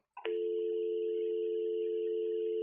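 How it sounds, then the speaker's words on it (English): A steady, continuous dial tone from a Brother MFC-J5845DW or MFC-J5945DW fax machine hums without a break after a short click, clear and close, with no voices. "Now press hook and listen for dial tone."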